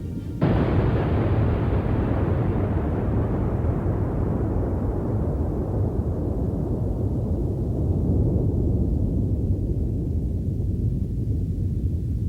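Atomic bomb explosion from a device dropped by a B-52 bomber: a sudden massive blast followed by a sustained, loud, deep rumbling roar that slowly loses its high end over about twelve seconds, with no voices.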